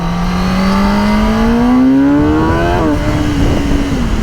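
2021 Kawasaki ZX-10 1000cc sport bike accelerating hard in first gear, engine note climbing steadily to high revs before a shift, then settling lower; close, loud and continuous with no talking.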